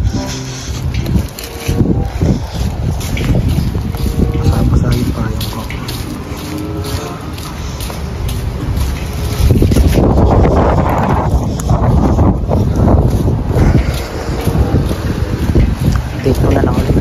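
Strong gusting wind with rain buffets the microphone in a constant roar, rising in heavier gusts, with speech partly audible beneath, outdoors in Smoky Lake, Alberta, Canada.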